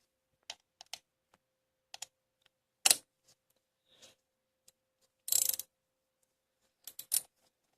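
Socket wrench ratchet on a spark plug in a 2004 Mazda 6 1.8 engine: sparse, sharp metallic clicks and short ratcheting bursts separated by quiet pauses, close up and alone.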